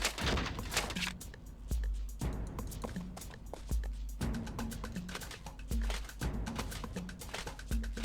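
A dense gunfire volley from a battle in Heroes of Might and Magic IV, with rapid overlapping shots and thuds crackling continuously at a moderate level.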